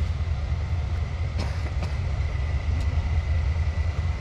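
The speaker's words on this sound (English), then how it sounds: "Here comes the train" A train rumbles along the Kwai River Death Railway, a steady low mechanical roar with faint rail clicks, heard close and continuous without talk.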